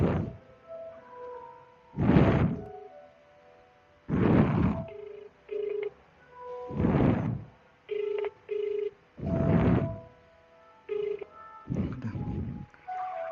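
Repeated telephone ring-back tone while placing a call on a cellphone, steady evenly spaced tones with short dial beeps between, heard close and fairly quiet.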